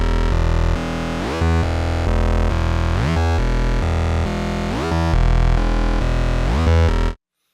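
A dense, distorted bass synth on Zebra 2 plays without sidechain compression, a continuous loud wall of sound with sweeping filter rises every couple of seconds, ending with a sudden cutoff.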